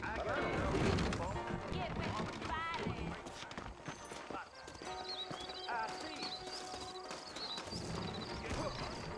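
Horse hooves clip-clop across the ground in Red Dead Redemption, set in New Austin, mixed with a horse's whinny, a western music score and game ambience, with someone speaking over the sounds.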